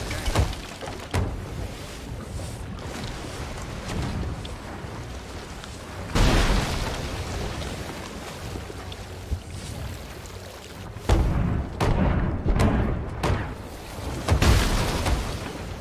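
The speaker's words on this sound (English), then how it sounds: "I'm getting smashed by cannons." Cannon fire pounds a ship in the pirate video game Sea of Thieves, with repeated heavy booms and impacts over constant sea and wind noise, mostly without speech.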